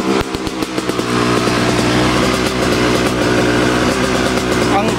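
A used Yamaha YZ250X two-stroke dirt bike engine runs on choke with a loud, steady buzzing drone and fast rhythmic pulses, starting with a few sharp pops before settling into continuous running close by.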